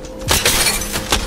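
Enemy shield breaking in Apex Legends, a bright glassy shattering crack followed by clinking bursts and gunfire-like hits, loud and close within about a second.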